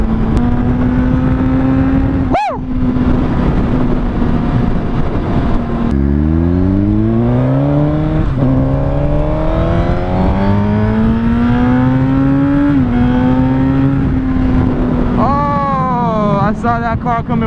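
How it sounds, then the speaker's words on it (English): A motor vehicle passes on a freeway while a motorcyclist rides a 2017 Suzuki GSX-R 1000, engine tones sweeping up and down through gear changes under heavy wind buffeting, loud and close throughout. "I saw that car coming from a mile away."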